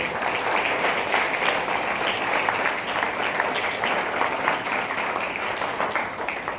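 A large audience at a CPR training event gives a long, dense round of applause to welcome a healthcare professional, steady and loud throughout with no pause.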